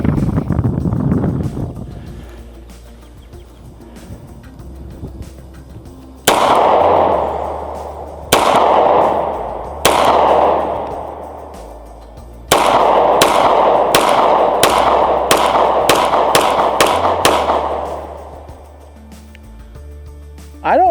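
A Girsan 2311 Brat .45 ACP pistol fires at outdoor targets: loud, sharp shots with ringing decay, first spaced singly, then a fast string of about eight in quick succession.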